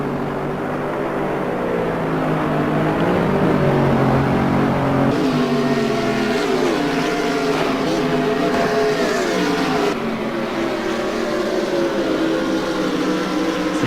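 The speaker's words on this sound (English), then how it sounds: "you can see the power of the Mercedes-Benz down the straight, and the McLaren doesn't have an answer for it" Mercedes-Benz race car in a GT sim racing game at Monza, its engine droning loud and steady down the straight with rising and falling pitch as it shifts through gears, alone without talk.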